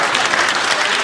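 Studio audience applause from a sitcom, a dense, steady burst of clapping and cheering at full volume with no one speaking over it.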